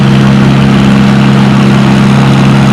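Steady, loud engine drone from a WD tractor working a tractor pull, a strong low hum held evenly for the whole stretch with no talk over it.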